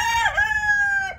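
A rooster crows once, a loud sustained cock-a-doodle-doo held for about a second, close by with no talking.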